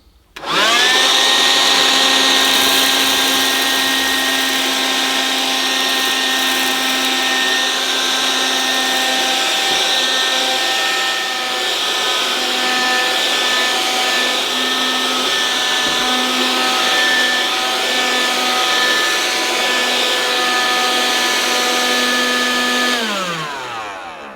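A Vax Kone cordless vacuum cleaner runs steadily for over twenty seconds, a loud, close motor whine with a stable pitch that winds down abruptly at the end. No one speaks.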